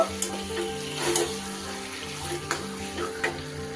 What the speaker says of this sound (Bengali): খুব ভালো করে আমি মশলার সাথে মিশিয়ে নেব